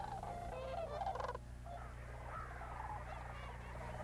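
Cranes and geese call as they fly in at sunset over a New Mexico wildlife refuge, faint warbling and honking cries from several birds over a low steady rumble.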